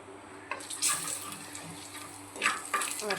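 Water pours from a tap into a cooking pot of spiced prawn curry, a soft splashing stream that is quiet at first and then gushes more strongly in brief bursts toward the end.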